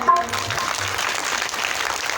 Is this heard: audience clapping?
yes